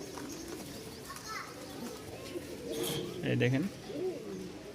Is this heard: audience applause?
no